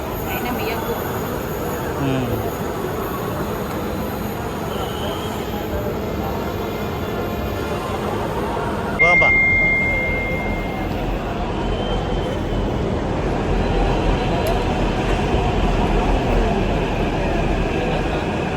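Metro train running on an elevated track, a sustained loud rumble and rail hum heard nearby, with a brief high squeal midway and people talking over it.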